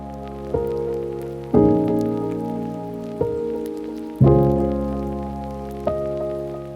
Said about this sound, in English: Now it's time to mix the veggies and the rice together.